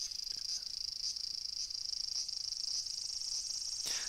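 Cicadas in a summer setting within a visual novel, a steady high-pitched buzzing drone with slight pulsing swells, continuous and fairly prominent over quiet background.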